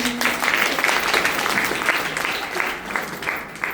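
Steady applause from a training-session audience fills the short stretch, dense clapping at an even level, with faint voices mixed in.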